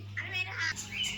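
A cat meows at feeding time with several short, close, rising calls in quick succession over a low steady hum, a voice faintly present.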